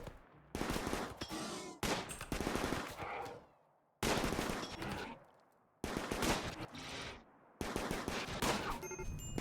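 A fireworm creature firing in the video game RimWorld, heard as about six loud, close bursts of rapid automatic shots separated by sharp short silences, with no speech.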